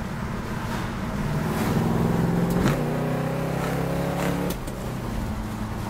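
A 1968 Plymouth Road Runner muscle car accelerating hard, its engine revving loud and close with rising pitch through the gears, a brief shift midway and a drop in level near the end.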